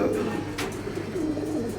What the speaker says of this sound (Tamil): இந்த கிளாவர் புறா ஒரு இம்போர்ட்டட் பேர்டு